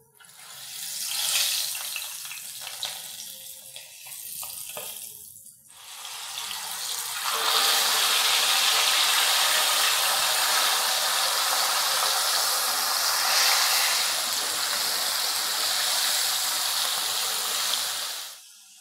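Hairtail fish pieces coated in dry starch are lowered into hot oil, which breaks into a loud, steady, close sizzle lasting well over ten seconds after a few earlier bursts of crackling.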